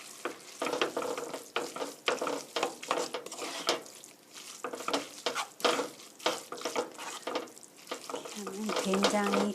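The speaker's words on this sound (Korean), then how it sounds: "고루 소스가 묻을 수 있도록 이렇게 버무려 주세요" Spaghetti being tossed through soybean paste sauce in a pan with the heat off, giving a close, continuous run of wet stirring, scraping and slapping noises in uneven bursts.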